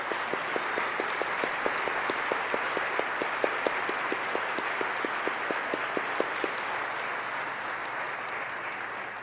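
Church congregation applauding the choir and music minister during a Bible study service, steady sustained clapping filling a large room, even and continuous for several seconds before gradually thinning.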